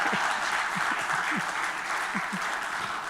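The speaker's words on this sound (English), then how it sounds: "Clap, I think." An audience at a tax-compliance event applauds with dense, continuous clapping that stays steady for the whole stretch, with a faint voice murmuring underneath.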